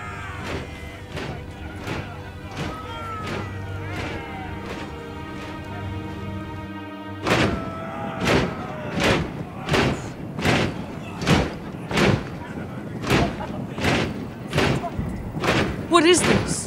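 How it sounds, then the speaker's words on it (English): Soldiers bang their shields in a steady rhythmic pounding in the video game Game of Thrones: A Telltale Series, each blow a heavy thud about once a second, sounding grim and loud, louder after a pause, under musical tones and some talk. "They just showed up here, started banging their shields."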